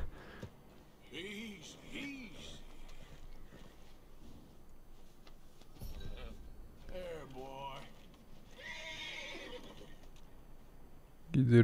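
A horse neighs in Red Dead Redemption 2, with several rising and falling whinnies, moderately near, over a quiet game background.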